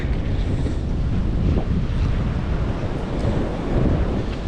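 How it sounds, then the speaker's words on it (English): Wind blows hard past a decaying red-brick structure along the disused Dearne Valley Junction Railway, a loud, steady buffeting on the microphone that swells slightly toward the end, with no voices. "You can just hear the wind, it's getting worse."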